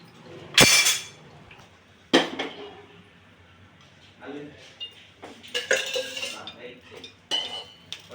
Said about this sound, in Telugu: ఇది మిసడి గిన్నె.